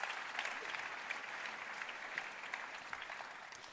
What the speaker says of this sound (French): Bravo. On les applaudit.